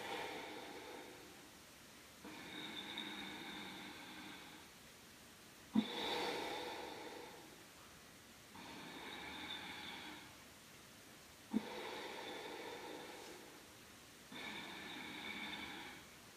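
Slow, deep yoga breaths held in a twisting pose, about five long airy inhales and exhales in an even rhythm, close and quiet, with a couple of sharp nasal snorts between them and no talking.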